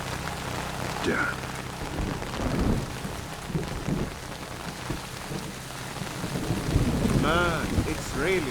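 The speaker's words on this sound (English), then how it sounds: "Man, it's really raining." Heavy rain pours steadily through a thunderstorm in the stealth video game Splinter Cell Chaos Theory, with low rumbles of thunder rolling beneath a continuous wash of rainfall while a voice speaks briefly over it.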